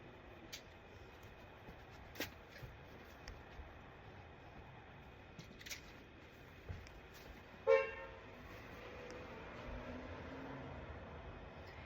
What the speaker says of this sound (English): That's my neighbors or somebody out there honking their horn.